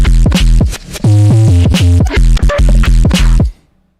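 Glitchy electronic music drop with resampled flamenco guitar, built from choppy start-stop stabs of bright plucked, tonal chords over heavy low bass that cut in and out in a stuttering rhythm, loud and close before stopping abruptly near the end.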